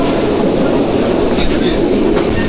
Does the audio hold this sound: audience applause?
no